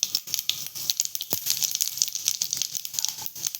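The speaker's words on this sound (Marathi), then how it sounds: "इथे आपली मोहरी आणि जिरं मस्तपैकी फडफडलंय" Mustard seeds and cumin crackle and pop in hot oil for a tempering for ivy gourd and field bean curry: dense, close sputtering with many quick bursts and a steady sizzle underneath, with no talk.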